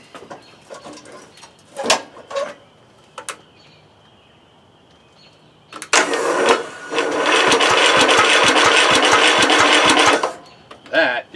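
The starter cranks a seized Kohler Courage engine on a Craftsman LT2000 riding mower, a loud, steady, rapidly pulsing whir lasting about four seconds, preceded by scattered brief knocks and clicks.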